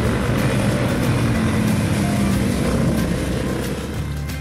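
Honda CBR500R and CBR300R motorcycles lap a race track, a loud, continuous buzzing engine drone heard from close range that fades slightly toward the end.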